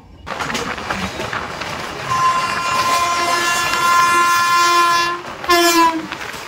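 The Tamralipta Express, train 12858, passes close by with a loud, sustained horn blast, a second short blast near the end, and wheels rumbling steadily beneath.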